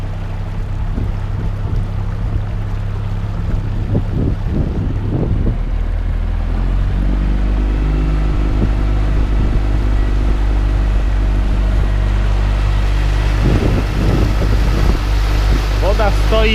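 A boat motor runs on the Vistula river with a steady, low droning hum. Wind buffets the microphone throughout, and voices briefly come through over the engine.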